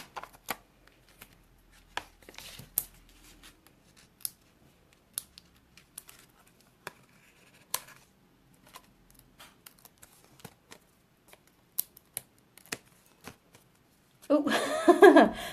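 Scissors snipping paper during a card-making craft session, a series of quiet, sharp cuts spread through the clip, followed by a louder rustle of handling at the end.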